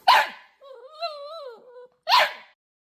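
A dog whimpers in a rising and falling whine between two short, sharp barks, heard close and alone with no talk.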